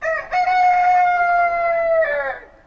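A rooster crows once as a game sound effect in Smile Game Builder, a loud, clear cock-a-doodle-doo held for about two seconds with a rising finish.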